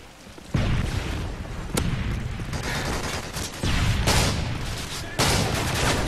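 Rapid bursts of gunfire from a Call of Duty: Modern Warfare 3 multiplayer match, loud sharp volleys separated by brief pauses over continuous game noise, with no talking.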